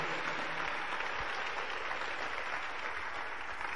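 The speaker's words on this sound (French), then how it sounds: "pourquoi ne pas applaudir très fort pour le Seigneur?" A church congregation applauding during a French-language service: steady applause fills the whole stretch, a dense, even wash of many hands clapping at moderate volume, no voices standing out.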